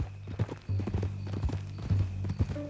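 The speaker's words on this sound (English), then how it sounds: "That a new horse?" Horse hooves clip-clop in Red Dead Redemption 2, a steady, close, rhythmic run of hoofbeats played alone without talk.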